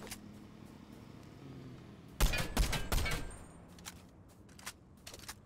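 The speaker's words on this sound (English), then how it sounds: "I think I heard gunshots over here." Burst of rapid gunfire in Fortnite during a Halloween session, several loud cracks in quick succession after a quiet stretch, followed by fainter scattered shots and game ambience.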